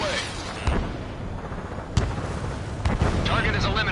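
Missiles striking targets during an Ace Combat 7 aerial dogfight: three sharp explosive bursts at irregular intervals cut through a dense, noisy layer of game sound.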